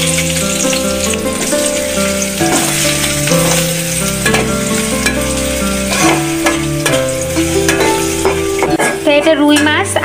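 Rohu fish with greens, onion, garlic, green chilies and coriander leaves sizzles and fries in a pan in a village kitchen, with a continuous loud close hiss and occasional stirring and scraping.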